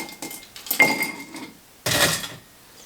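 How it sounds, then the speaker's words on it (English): Ice is dropped into a cocktail glass while a Valentine's cherry cocktail is built directly in the glass, giving two clattering bursts of clinks and rattles close by, with no talk. "I'm going to start with putting a little bit of ice in the glass."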